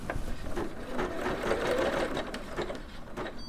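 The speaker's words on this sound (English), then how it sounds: "when it starts stitching, it'll overlap the part that it didn't finish stitching" A SINGER Legacy SE300 embroidery machine stitches a design, its needle mechanism running in a steady, fast, continuous rhythm at close range for the whole stretch, with no talk over it.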